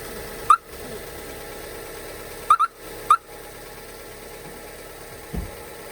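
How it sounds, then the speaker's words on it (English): A V8 car engine idles as a steady, faint low drone, broken by a few sharp clicks and a soft thud near the end, with no voices over it. "It's a V8."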